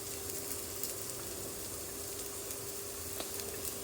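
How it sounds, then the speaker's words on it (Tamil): Onions fry in a hot cast-iron paniyaram pan over high heat, giving a steady, even sizzle with no talk and a faint constant hum beneath. "நம்ம அதுக்குள்ள பனியார சட்டிலையும் கொஞ்சம் வெங்காயத்தை போட்டுடலாம். நல்லாவே சூடாகிடுச்சு."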